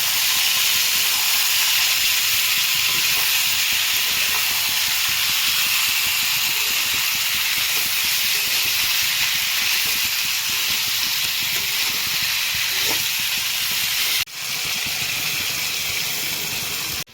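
Fish dropped into a hot pan with cumin seeds gives a loud, steady, close hiss of sizzling oil that runs on without pause, with a brief dip near the end and no talk.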